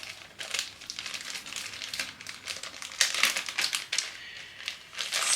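A plastic embellishment bag from a card kit crinkles and rustles continuously as it is handled up close, with uneven bursts of crackling and no talking.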